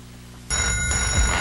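A telephone rings in a 1993 CBS television commercial, waking someone in the small hours with an international call. The ring starts abruptly and holds loud and steady, with no talk over it.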